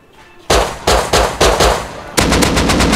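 Gunfire in the survival video game Rust: a few separate loud bursts of rapid shots with short pauses, then sustained continuous firing, close and dominant with no voices.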